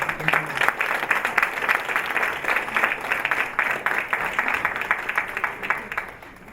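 Audience applause for a senator at a Black History Month celebration luncheon, steady dense clapping from a crowd that holds for about six seconds before tapering at the end.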